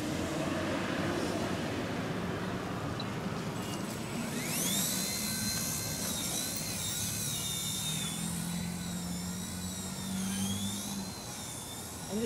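A Blade mCP X micro RC helicopter flies in a backyard with an old tail boom and tail motor, giving a steady high-pitched whine whose pitch rises and shifts as it maneuvers, set against a constant broadband rush.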